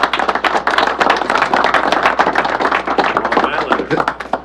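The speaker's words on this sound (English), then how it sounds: "Let's give him a big round of applause" A crowd at a hockey arena press event for the New York Islanders bursts into loud, close clapping, a dense rapid patter of many hands sustained throughout.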